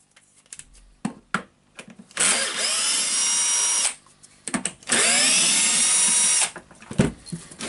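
Power tool unscrewing the six handle screws of a Hilti TE1000 AVR demolition hammer, in two sustained high-pitched whirring bursts of a couple of seconds each, close and loud, with small clicks and handling noise in between.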